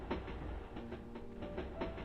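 A train rocks along its rails with a soft, steady clickety-clack rhythm, heard faint and even throughout with no voices.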